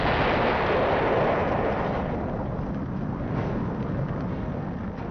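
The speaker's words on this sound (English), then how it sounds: "The 6-ton tank car in this blast rockets nearly 3/4 of a mile into a field." Liquid petroleum gas tank car explosion, a continuous heavy roar of blast and rumbling fire that stays loud and dense for several seconds before easing slightly, no voices.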